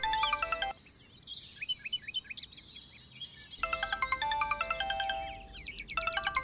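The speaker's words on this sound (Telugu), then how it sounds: "సత్తిగాడు ఏంట్రా ఈ టైంలో ఫోన్ చేస్తున్నాడు?" A phone ringtone plays an incoming call as a bright chiming melody in two bursts, separated by a quieter pause filled with birdlike chirps, fairly close and alone without talk.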